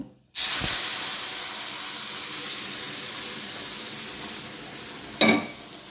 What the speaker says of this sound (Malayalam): കറി അതിലേക്ക് ഒഴിച്ച് കൊടുക്കുക